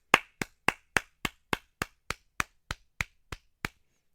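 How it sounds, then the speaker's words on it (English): One person clapping hands alone, thirteen sharp, evenly spaced claps over about four seconds, close and fairly loud, with no talk. "I'm going to give him a personal round of applause."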